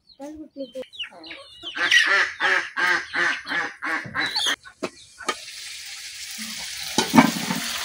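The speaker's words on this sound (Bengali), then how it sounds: "কচু আর মুরগি মাংসটা আমি এখন ডাইকা কষাই নিলাম।" Chicken and taro frying in a covered pan while being stirred, with a rhythmic run of scraping strokes over a sizzle, followed by a steadier, hissier fry at close range.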